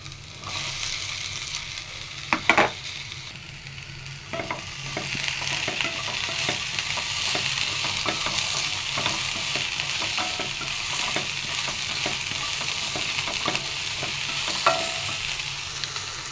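Chopped tomato, onion, slit green chillies and curry leaves sizzle in a pan while being stirred, a continuous hiss dotted with occasional spoon scrapes and a couple of sharper knocks.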